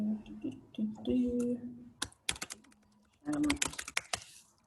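Clicks and rapid keyboard-like taps from a computer mouse during an accessibility webinar, arriving in loose bursts near the mic, with a low hum and brief vocal sounds between them.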